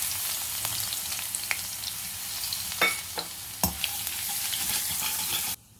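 Crushed garlic sizzles in hot oil with bay leaf, black pepper and cumin, a steady close frying hiss with occasional stirring scrapes and pops, ending abruptly.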